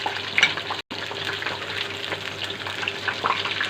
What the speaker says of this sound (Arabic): البرنجان انا بحمره نص تحميره كده